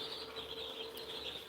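Day-old broiler chicks peeping continuously on a farm, a steady high chorus of many small birds, fairly faint and distant with no voices over it.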